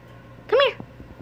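A single short, rising-and-falling cat meow sounds close by indoors, followed by a few soft clicks and faint movement.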